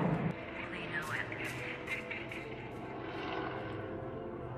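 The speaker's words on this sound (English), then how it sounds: "Oh my God, bro, these planes." Aircraft pass overhead outdoors, a broad, steady roar of engines and propellers that swells and lingers for several seconds, with a voice speaking over the noise.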